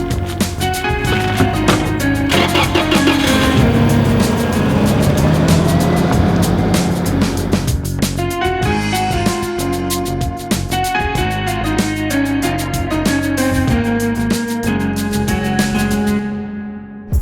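A first-generation Toyota Tacoma extra cab pickup with a 150-horsepower 2.7-liter four-cylinder engine drives along. The engine drones loudly and steadily from start to finish, with its tone shifting slightly as it goes.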